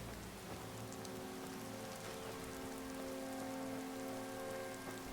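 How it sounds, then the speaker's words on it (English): Rain in the video game Skyrim falls as a soft, continuous hiss of drops on surfaces, steady and unbroken, mixed with low sustained musical tones and no voices. "It's still raining."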